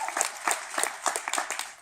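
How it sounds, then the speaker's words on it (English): Audience applause at a Beachbody Super Saturday event in Denver, a short burst of many hands clapping with a rapid, uneven rhythm, fairly close and lively. "Thank you for applauding."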